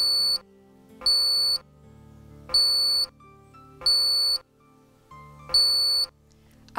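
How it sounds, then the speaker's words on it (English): Five evenly spaced electronic beeps from a touchscreen during calibration, each lasting about a second, ring out clearly with short silent gaps between them. "keeping them pressed until a beep is heard."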